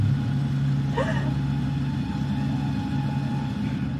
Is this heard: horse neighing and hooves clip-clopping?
no